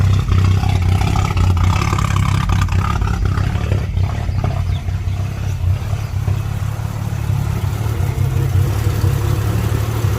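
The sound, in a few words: BMW E38 750iL V12 engine idling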